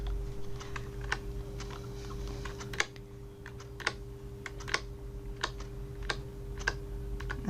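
Computer keyboard keys tapped one at a time while selecting cells in an Excel spreadsheet with Control, Shift and arrow keys, giving close, crisp clicks in an uneven, unhurried rhythm with no talking.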